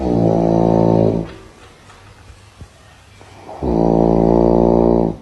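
A sleeping person snores in two long, loud, rumbling inhalations, each about a second or more, separated by a quiet pause with faint breathing, close to the listener.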